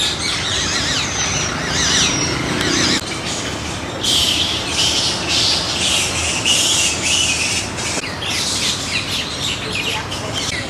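A bird squawks and chirps near polluted ponds in Agra, India, repeated bright calls standing out over steady outdoor background noise.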